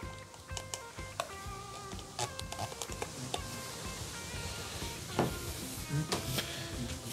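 Sweet chili sauce goes into a bowl and is mixed for a BBQ wing sauce, with sharp spoon-on-bowl clinks and wet stirring sounds at close range over a low background rumble.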